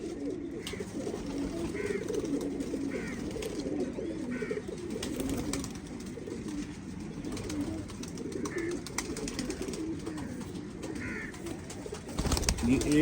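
Teddy pigeons cooing steadily in a loft, soft repeated low coos layered over one another throughout, with faint background murmur and a brief louder rustle at the end.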